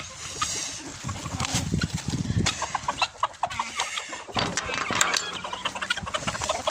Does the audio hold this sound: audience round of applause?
no